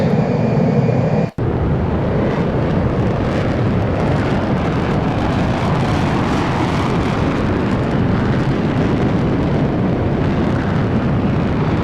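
An F-14D Tomcat jet in the FSX flight simulator game pushing to supersonic speed, a loud, steady broadband engine roar after a brief cut near the start, constant and close throughout.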